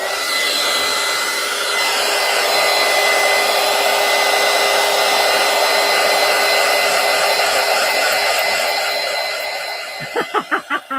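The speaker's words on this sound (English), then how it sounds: "Let me plug in my heat tool here." A craft heat tool runs with a loud, steady blowing whir for about ten seconds, then winds down with a few short sputtering pulses at the end.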